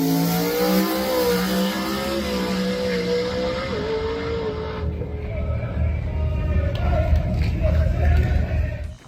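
A drag race car makes a fast quarter-mile pass at the FL2K 2023 event. The engine revs rise and climb in pitch and then fade into a lower roar, with crowd murmur underneath.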